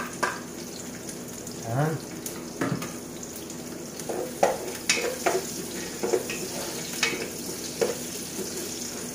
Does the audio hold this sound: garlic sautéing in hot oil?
yes